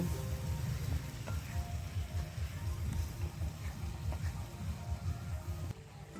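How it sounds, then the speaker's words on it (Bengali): Steady sizzling in a pan over a wood-fired clay stove as gugli (freshwater snail) chorchori curry is mixed with a spatula after water is added, with continuous scraping and stirring strokes throughout and a quieter tail at the end. "এরপর পরিমাণ মতো জল দিয়ে দেব দিয়ে খুন্তি দিয়ে ভালো করে মিশিয়ে নেব"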